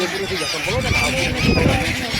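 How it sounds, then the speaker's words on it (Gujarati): A flock of migratory foreign birds gathers at Gomti Ghat, giving overlapping honking calls in a continuous noisy chorus mixed with crowd and ambient riverside sound. "એટલા બધા વિદેશી પંખીઓ હતા કે ઝુંડમાં"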